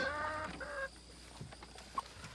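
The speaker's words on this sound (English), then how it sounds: "Good morning, chickens." Chickens cluck nearby in a few short, throaty calls at the start, then the scene settles to quiet background with a single small peep.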